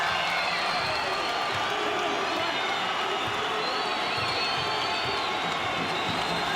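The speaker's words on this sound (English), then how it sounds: "The crowd's into this game now, there's no doubt" A basketball crowd at an NMSU versus UTEP college game roars and cheers continuously, a dense, loud arena wash of voices and whoops with some clapping throughout.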